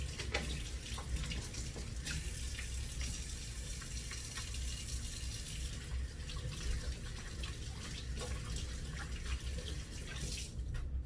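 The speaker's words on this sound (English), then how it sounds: "I'm gonna wash off my hands now" Running tap water pours steadily into a kitchen sink as hands are washed beneath it, a continuous close splashing hiss with small irregular drips and no speech.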